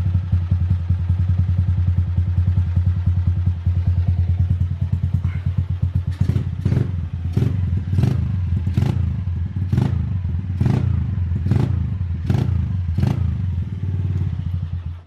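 Honda Titan KS 125 motorcycle idling close by with a steady low engine rumble after a new fuel filter install, broken in its second half by a string of sharp, regular clattering knocks.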